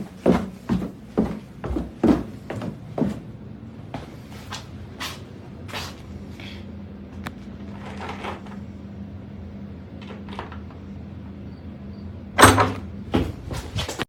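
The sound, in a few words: basement door handle jerking, door rattling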